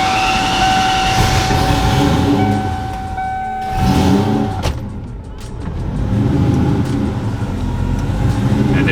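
A notchback car engine runs steadily up close, a continuous loud mechanical drone with a brief dip in level midway before returning to full volume; no speech.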